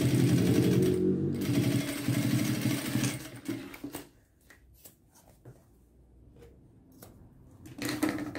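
A sewing machine stitches a seam on a square toiletry bag, backstitching at the ends. Its fast, loud mechanical chatter runs for about three seconds, followed by quieter handling taps and fabric shuffling, then a brief burst of stitching at the end.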